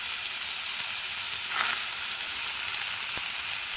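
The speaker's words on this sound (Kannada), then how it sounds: "ಇಲ್ಲಿ ಕರಿಬೇವು ಹಾಕ್ತಾಯಿದ್ದೀನಿ." Curry leaves frying in hot oil in a pan for a bitter gourd curry, giving a steady close sizzle with a brief louder crackle partway through.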